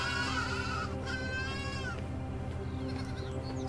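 Sheep in the video game AER: Memories of Old bleat a couple of times in close succession over a steady game background, with no talking.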